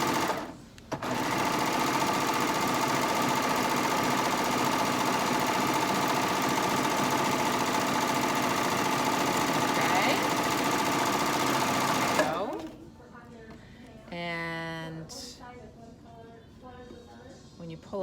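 A serger sewing machine stitches a picnic quilt in one loud, steady whirring run of about twelve seconds. It stops abruptly, then a few quieter sounds follow.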